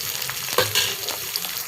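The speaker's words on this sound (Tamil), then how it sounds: "இப்போ வெங்காயம் கொஞ்சம் நல்லா வதங்கிடுச்சு." Onions sizzle in oil in a pan for Muslim-style biryani, a close bright frying crackle with a couple of brief stirring scrapes, heard alone.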